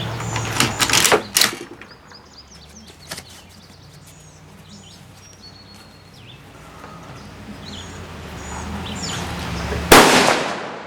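Mosin-Nagant AA9130 rifle fired outdoors at a shooting range: a few sharp, loud cracks near the start, a lone report around three seconds, and another strong blast near the end, with quiet ambient gaps and faint bird chirps between.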